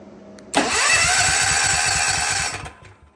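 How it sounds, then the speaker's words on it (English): A DIY remote-start generator's starter engages with a sudden loud onset and the small engine catches, running steadily for about two seconds before cutting back down, with no talk over it. "You can see it engage the starter."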